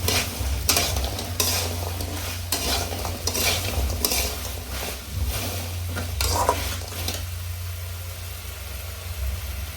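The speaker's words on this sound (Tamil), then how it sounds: "கோபி இப்போ நல்லா மிக்ஸ் பண்ணி கொடுக்கலாம்." Cabbage gobi manchurian is stirred in a pan, with repeated scraping stirring strokes over a soft sizzle and a steady low hum underneath, close and continuous.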